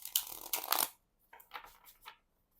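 A tarot card deck is riffled and shuffled in a quick, close burst of papery flutters, followed by a few softer, scattered card shuffles.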